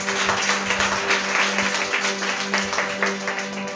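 A church congregation claps loudly and steadily, dense overlapping handclaps filling the hall with a constant hum beneath.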